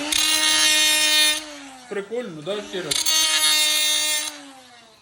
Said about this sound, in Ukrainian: Перевірили болгаркою